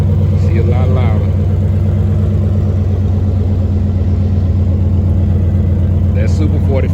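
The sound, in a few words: Ram 1500 truck exhaust with Super 44 muffler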